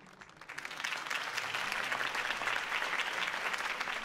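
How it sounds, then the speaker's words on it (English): Crowd applause after a campaign speech in the Telltale Batman video game, a dense steady clapping that swells in after a brief quieter start and carries on evenly, no talk over it. "could have heard that applause"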